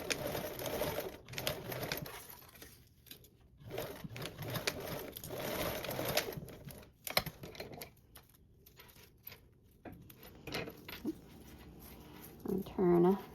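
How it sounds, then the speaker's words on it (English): A sewing machine stitches a seam with a 3/8-inch allowance, its rapid mechanical rattle running in bursts with short pauses while a person talks over it. "And I'm going to sew again with that 3/8 seam allowance on both sides."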